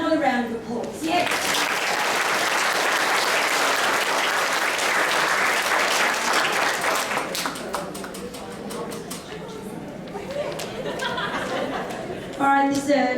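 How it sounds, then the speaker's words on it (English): Sustained audience applause at a school graduation ceremony, loud and dense for several seconds before thinning into scattered claps, with light chatter and a voice returning at the end. "another round of applause"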